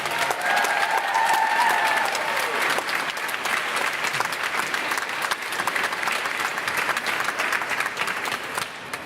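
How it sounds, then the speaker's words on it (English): An audience claps to welcome fashion stylist Patricia Field on stage at Lakeside Joondalup, a loud, dense burst of applause that stays strong and full from start to finish and fades only slightly near the end. "let's welcome, with a loud applause, Patricia Field."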